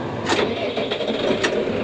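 A new farm tractor's engine cranks and catches from the cab, short bursts settling into a steady running rumble, moderately loud with no talking.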